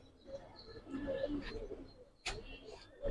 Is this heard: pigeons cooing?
yes